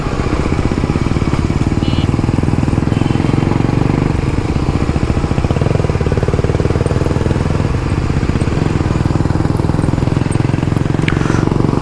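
A modified motorcycle engine runs close and loud, a continuous throbbing rumble with a fast, rough pulse that holds steady for the whole stretch.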